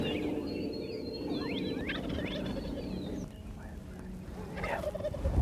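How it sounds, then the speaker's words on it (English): Wild turkeys gobble at dawn during a spring hunt in the Texas Panhandle, with several calls rising from the birds in repeated bursts, moderately distant and fairly clear over a low steady outdoor background. "turkeys are waking up a little bit."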